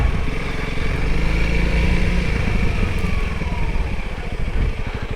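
A Honda CRF300L dirt bike chugs at low revs along a single-track trail, its engine putting in a steady, close, continuous thump with slight throttle swells and no talking.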